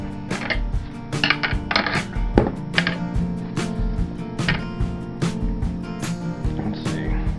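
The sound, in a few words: cutting a tomato with an unsharpened deboning knife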